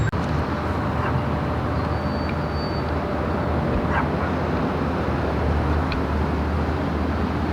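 A dog in a car barks and yips in short bursts, fairly distant, over a steady roar of traffic in a store parking lot.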